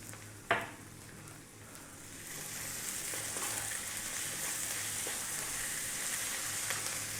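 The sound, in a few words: garlic ginger paste frying with onions and spices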